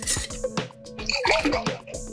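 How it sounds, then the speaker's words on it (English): Warm water and dish soap go into a jar, giving a gurgling splash with irregular drips and bubbly sloshing close by, no talking. "Add some warm water and Dawn dish soap to a jar."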